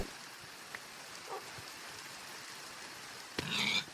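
Soft, steady rain patters continuously at low volume in Minecraft, broken by a few faint clicks and a short brighter sound near the end.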